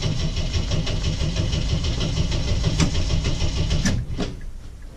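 An engine on a 1981 Jeep CJ7 that has sat for a month with its battery disconnected runs in a rough, loud, close idle with a low rumble, then a short rev near the end before it settles.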